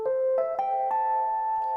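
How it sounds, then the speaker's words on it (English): Rhodes electric piano playing a simple ascending melody in an atmospheric drum and bass track, soft struck notes stepping upward and sustaining with a mellow ring; moderate level, no voices. "One of them is this Rhodes, which is called Rhodes Ascending Melody,"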